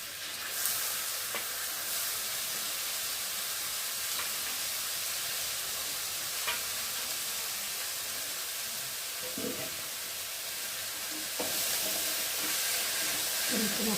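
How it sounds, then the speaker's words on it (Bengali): Boiled banana flower tossed into spice paste in a hot pan, a steady crackling sizzle with faint hiss throughout and a few brief clatters of stirring. "এখন আমি সেদ্ধ করে রাখা মোচাগুলো এর মধ্যে ঢেলে দেবো"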